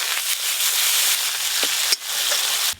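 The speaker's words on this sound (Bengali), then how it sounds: "পোস্ত চালমগজ একটু হালকা করে নেড়ে নিয়েছি" Poppy and melon seed paste stirred in hot oil in a village kitchen, giving a steady broadband sizzle with a few brief scraping stirs and a short gap near the end.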